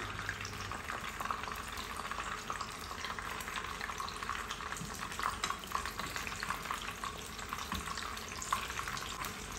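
Shrimp spring rolls (nems) frying in a pan of hot oil, a steady close sizzle with continuous crackle and occasional louder pops, no voices.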